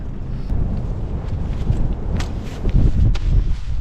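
Steady wind buffeting a nearby microphone at a motorcycle campsite in Scotland, a low rumbling roar that swells and gusts louder toward the end, with no voices.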